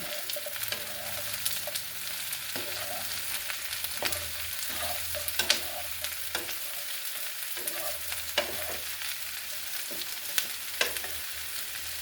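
Squash, onions and potatoes sizzle steadily in a frying pan with repeated scraping clicks as they are stirred, the frying close and even throughout with no talking.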